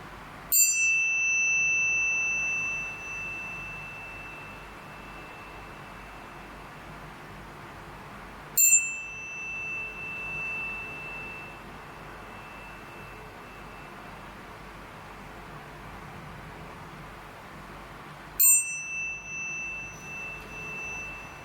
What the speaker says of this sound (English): I'm gonna do the chimes right away.